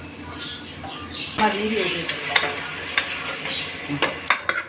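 A spatula stirs tomatoes and salt in a hot frying pan while biryani cooks, giving a steady sizzle broken by scraping and clinking strokes against the metal that grow sharper toward the end.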